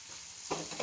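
Raw plantain slices frying in oil, a soft steady sizzle with a couple of brief louder crackling bursts.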